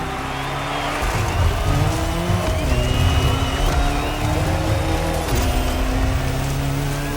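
Race car and motorcycle engines from The Crew Motorfest howl together on the same course, steady loud revving with rising and falling pitch sweeps as the vehicles shift and accelerate.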